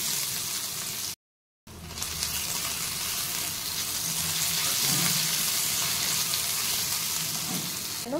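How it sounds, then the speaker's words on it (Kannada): Ginger and garlic sizzle in hot coconut oil in a pan, a steady close frying hiss broken briefly by a short dropout, with faint stirring scrapes and no speech. "ಇವಾಗ ನಾನು ಒಂದು ಪ್ಯಾನ್ ಇಟ್ಬಿಟ್ಟು ಒಂದು 2 ಟೇಬಲ್ ಸ್ಪೂನ್ ಆಗುವಷ್ಟು ಕೊಕೊನಟ್ ಆಯಿಲ್ ಹಾಕಿದ್ದೀನಿ. ಇವಾಗ ನಾನು ಜಿಂಜರ್ ಗಾರ್ಲಿಕ್ ಹಾಕ್ತಿದ್ದೀನಿ."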